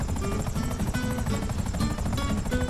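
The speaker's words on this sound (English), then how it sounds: "Rich, that is not how you land a helicopter" A helicopter in GTA V Online gives off a loud, continuous rapid rotor chop with a dense low thrum, close and sustained throughout.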